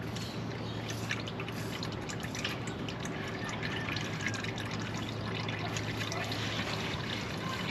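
Engine oil from a 2014 Kia Optima drains into a tray as a steady trickling, dribbling stream, continuous and close over a low constant hum, with no talk.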